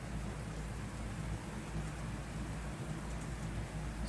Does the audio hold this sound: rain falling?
yes